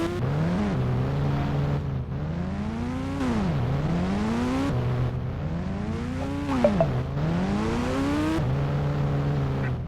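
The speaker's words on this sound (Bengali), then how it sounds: "এবারে আমি খুব হুইলি চালাবো" An engine revs repeatedly during a wheelie, its pitch climbing and dropping in long surging waves over about ten seconds, loud and close with no voices.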